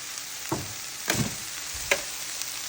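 Baby spinach cooking in a pan for breakfast burritos, with a steady faint sizzle and three brief louder bursts of stirring or tossing spaced about a second apart.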